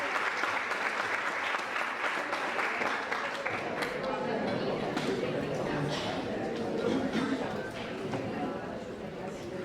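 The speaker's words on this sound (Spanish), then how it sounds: "Creo que podemos recibir con un fuerte aplauso a Olger Ignacio." An audience at a specialized international course welcomes a speaker with sustained, loud applause: dense clapping from a crowd that goes on steadily for nearly ten seconds before tapering slightly.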